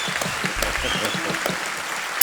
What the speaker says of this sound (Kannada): ಇನ್ನೊಮ್ಮೆ ಒಂದು ಜೋರಾದ ಚಪ್ಪಾಳೆಯನ್ನು ಸರ್